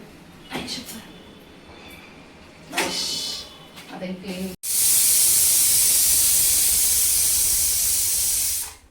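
Pressure cooker cooking moth beans with potato and rice lets out a loud, sustained whistling hiss of escaping steam, preceded by a few short kitchen knocks and brief voices.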